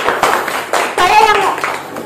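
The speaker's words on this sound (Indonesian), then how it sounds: "tepuk tangan" A school class claps hands in a few scattered, uneven bursts, mixed with children's and a teacher's voices talking over the applause.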